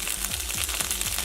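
Onions and green beans fry over a medium to high flame for sesame beef, a continuous crackling sizzle with a faint repeating low pulse beneath it, no talking.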